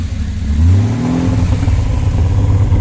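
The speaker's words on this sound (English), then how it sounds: "Listen to that burble." A classic car's engine revs up and settles into a loud, close, burbling idle at an outdoor classic car show in Paphos, Cyprus, steady for about three seconds with no talk.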